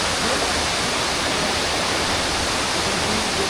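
Continuous roar of waterfall water in Bali rushing down a channel, a dense, even, close-up wash of flowing water throughout.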